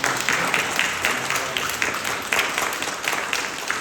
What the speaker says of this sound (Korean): 우리 함께 박수로